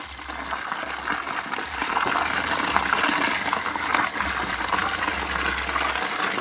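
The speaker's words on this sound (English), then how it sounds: "Michael, what I'm doing here is actually washing the coconut that was grinded a while ago" Water gushes and splashes steadily as ground coconut is washed by hand in a basin while making homemade coconut oil, a close, continuous wet rushing sound with no talking.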